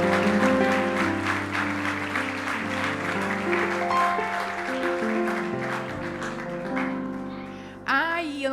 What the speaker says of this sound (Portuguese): E uma salva de palmas para eles, igreja.